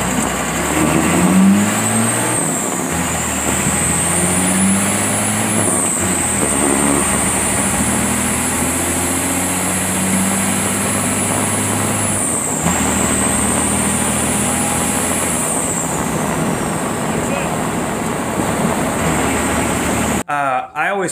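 A modified diesel vehicle with a fuel plate and governor spring mod on a test drive: steady engine drone and road rumble inside the cab, rising and easing as it accelerates through the gears, with a high whine on top throughout.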